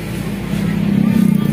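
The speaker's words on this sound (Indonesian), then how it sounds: "pergerakan kendaraan semakin terpantau ramai ya, baik kendaraan roda 4 maupun roda 2" Vehicle engine drone on a road at night in Situbondo, East Java, with cars and motorcycles moving, a steady low hum that swells louder toward the end as traffic passes close by.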